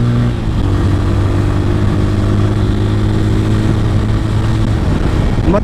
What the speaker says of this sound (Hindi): मतलब 5000 RPM के बाद बाइक का साउंड एंड टोटल रिस्पॉन्स बहुत ही ज़्यादा एग्रेसिव हो रहा है